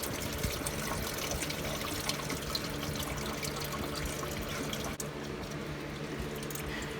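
Coolant drains from a Porsche Boxster 986 engine in a steady, continuous trickle of liquid, faint and unbroken for several seconds.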